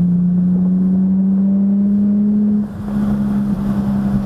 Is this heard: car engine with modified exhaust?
yes